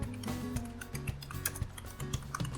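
Quick keystrokes on a computer keyboard while entering text into an Excel attendance sheet, a brisk run of light clicks set against a steady tonal background, with no talk.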